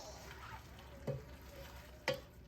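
Garden bok choy being stirred in a frying pan gives a soft background sizzle, broken by two distinct utensil clinks about a second apart, quiet and close.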